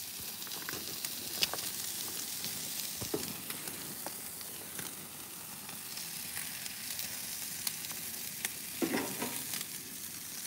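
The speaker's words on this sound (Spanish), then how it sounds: "Hirviendo el pollito." Chicken and beef sizzle on a grill in a steady, close frying hiss dotted with sharp pops and crackles, with no talking.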